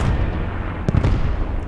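A bomb dropped by a Stuka dive bomber in the Post Scriptum video game strikes with a dull, heavy boom under a constant loud rumble of battle noise, followed by a brief crackling burst.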